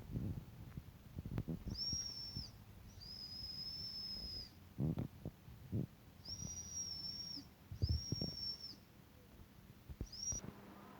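A thin, high whistle from a homemade willow-bark whistle sounds in several short and longer blasts, separated by soft handling noises and knocks, close and fairly quiet.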